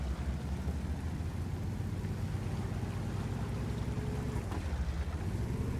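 Steady low engine rumble of a heavy tank, an E100 or E50M, rolling across a World of Tanks map, a continuous droning drive with a faint shift near the end and no talk over it.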